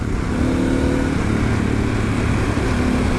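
A Harley-Davidson Pan America motorcycle exhaust runs with a loud, deep, throbbing burble, steady and close with a constant rumble and no talk.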